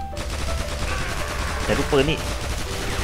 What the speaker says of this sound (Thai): บุ้มปืนนี่โคตรแรง